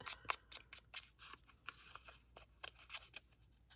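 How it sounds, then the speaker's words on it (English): A pair of scissors scrapes and snips along a paper edge in a mixed-media journal, distressing the fibers in a quick series of soft, close, rhythmic rasps, faint and alone. "she did it with a pair of scissors"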